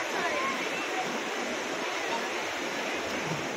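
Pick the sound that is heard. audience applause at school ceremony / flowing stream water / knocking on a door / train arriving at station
flowing stream water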